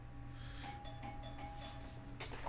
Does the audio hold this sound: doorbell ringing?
yes